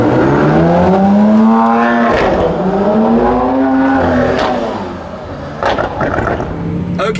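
Lamborghini Aventador SVJ pulling out of the pit lane at the Estoril circuit, its engine note loud and close, swelling and dipping in pitch as it moves off.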